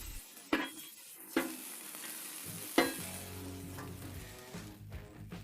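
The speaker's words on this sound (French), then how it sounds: "Je vais commencer par faire sauter quelques tranches de piment jalapeno frais." Fresh jalapeno slices sautéing in clarified butter over low heat, a steady soft sizzle broken by three sharp utensil clacks against the pan and scraping stirs, close and alone with no voices.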